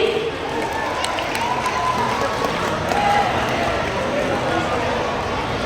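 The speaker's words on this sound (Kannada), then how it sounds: "ಒಂದು ಜೋರಾದ ಚಪ್ಪಾಳೆ ಹೊಡೆಯಿರಿ" Audience applause at a film poster and title launch event for Love Mania, a dense, continuous wash of clapping from a crowd, steady and fairly loud throughout.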